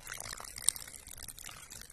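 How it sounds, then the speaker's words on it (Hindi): Water trickles slowly from a small vessel onto the soil of a potted cranberry hibiscus, a faint, soft pour lasting the whole moment, with one brief sharp tick partway through. "अब हम इसमें डालेंगे धीरे धीरे थोड़ा पानी"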